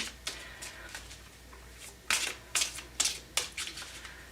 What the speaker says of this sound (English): See if I can shuffle these without throwing them all over the place.